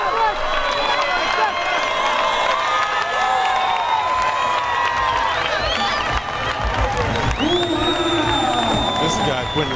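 A fight night crowd roars and cheers steadily through the closing bell of a bout, a dense sustained wall of voices with whoops and shouts rising above it.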